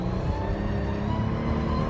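An Infiniti QX60 accelerating under steady throttle with a transmission shudder. The engine drone and whir are close and continuous, with a low rumble throughout and no speech.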